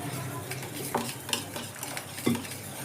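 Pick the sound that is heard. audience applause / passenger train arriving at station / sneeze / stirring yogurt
stirring yogurt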